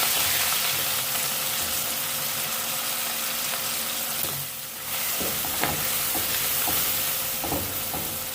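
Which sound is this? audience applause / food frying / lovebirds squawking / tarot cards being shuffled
food frying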